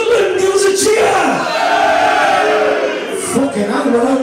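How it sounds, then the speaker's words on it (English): Sunderland football fans in a stadium crowd cheering and shouting loudly at an away match against Plymouth, a sustained roar of many voices that swells and dips briefly. "Sunderland, give us a cheer!"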